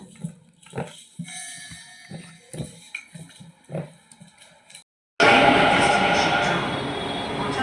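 Faint background voices and scattered sounds give way to a sudden loud, steady roar of a metro train passing close by at a station, filling the rest of the clip.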